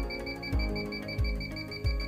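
Steady electronic beeping at a regular pace from an INFICON D-TEK 3 refrigerant leak detector, a high tone pulsing over a low hum, with a few low thumps every second or so.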